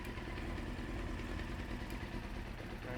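A 1993 Honda CBR900RR motorcycle engine idles steadily right after its first start, a continuous loud low rumble with no choke on, running alone without breaks.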